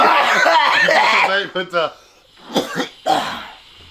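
Several harsh coughs and throat-clearing bursts come after a stretch of talking, spaced out with short pauses between them.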